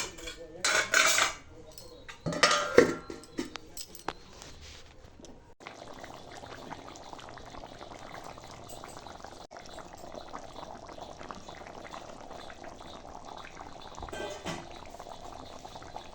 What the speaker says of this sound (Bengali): তো চলো এটা সেদ্ধ হতে থাকুক।